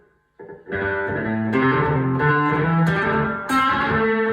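A distorted electric guitar plays a quick pentatonic lick, single notes picked one after another and left ringing, loud and close with no voice.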